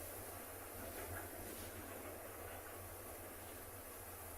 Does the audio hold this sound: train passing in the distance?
yes